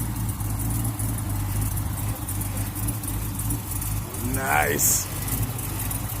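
A Stalker kit car idles in a DMV parking lot, a steady low engine drone running close and even throughout while people talk over it.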